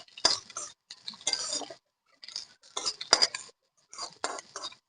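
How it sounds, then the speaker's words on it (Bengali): Spicy onions are stirred in a metal kadai. The stirring comes as short, close clattering scrapes in irregular bursts, separated by brief silent gaps. "ঝাল পেঁয়াজ ভেজে নিচ্ছি।"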